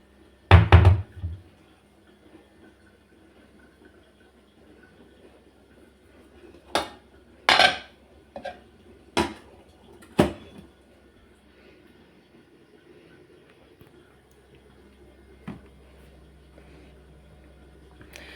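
Washed, wiped dishes being stacked into a kitchen cupboard, with sharp clinks and knocks in a brief cluster at the start and a second run of several clattering hits later, separated by quiet room tone.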